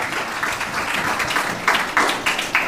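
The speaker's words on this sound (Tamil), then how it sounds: "கைத்தட்டி கர்த்தரை ஸ்தோத்திரம் பண்ண" A church congregation clapping hands in praise of the Lord, a rippling wash of many hands with several sharper, louder clapping bursts near the end and a faint murmur of voices.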